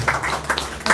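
An audience at a poetry gathering (mehfil) claps to welcome a guest. It is a loose patter of close claps with uneven bursts of louder hand-claps over a low hum.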